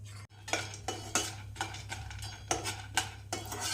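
A spoon stirs roasted masala peanuts in a pan over a low flame, making about eight close, rhythmic scraping strokes against the metal with a faint sizzle underneath and no talk.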